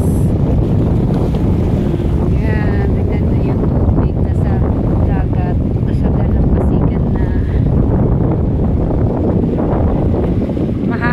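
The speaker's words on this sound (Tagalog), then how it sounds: "Dito guys, sobrang hangin." Strong wind buffets the microphone in a continuous loud roar on a provincial Philippine shore with mangroves, with faint voices and what sounds like water in the background.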